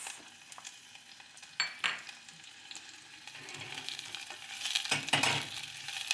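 Onion and shallots fry in a hot pan with a steady, soft sizzle, broken by a few sharp clinks and scrapes of stirring and a brief louder crackle near the end.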